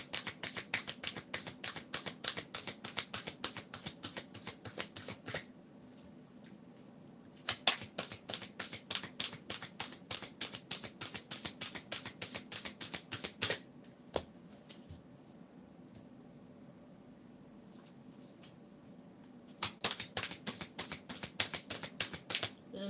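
Rapid bursts of crisp card-shuffling riffles, several rounds separated by short quiet pauses, close and fairly loud with no voices.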